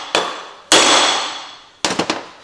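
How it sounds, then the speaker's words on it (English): A hammer strikes metal to pound a dimple before drilling: one light tap, then a loud ringing blow, then a quick cluster of three or four sharp hits, each decaying with a metallic ring, no talking. "I'll take the hammer and I'm going to pound this a good while"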